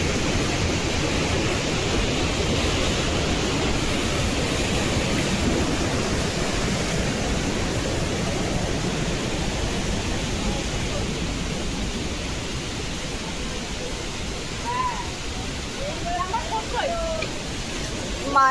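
Rushing river current near Pelling, a loud continuous roar of churning water filling the whole clip, steady and close, with faint higher chirps near the end.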